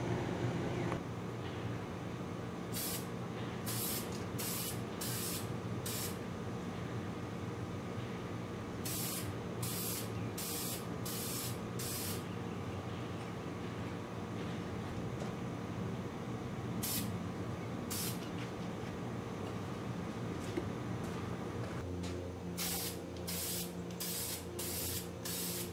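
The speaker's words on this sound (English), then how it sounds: "And we'll start spraying over here" A can of Molotow Burner chrome spray paint sprays in one long, loud, continuous hiss close by. Faint periodic ticking sounds sit above the spray, and the tone shifts slightly near the end.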